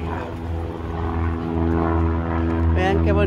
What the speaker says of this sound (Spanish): Allá se escucha una avioneta porque aquí aterrizan